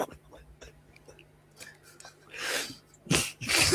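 A person sneezes once, loudly and close, followed by a breathy second burst, after soft whispery breaths and quiet mouth sounds in an online chat.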